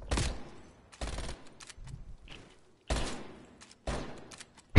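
Video game shooter gunfire rips out in four loud, close bursts of rapid automatic fire, separated by short gaps with faint thuds and clicks between them.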